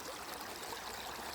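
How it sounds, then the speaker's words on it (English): Water flowing in an outdoor stream, a steady broadband rush and trickle that holds unbroken, soft and fairly close, with no voices. "So I think it's enough for the sounds of the water."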